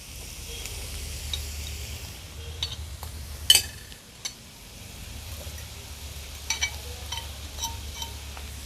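Beef stir fry over high heat, with a steady low sizzle and hiss of frying meat under scattered clinks and taps of a utensil, and one sharper clatter midway.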